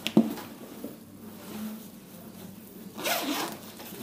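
A LERROS men's bag being unzipped produces a quick sharp tug, then a soft zipper rasp, close and moderately loud with no talking.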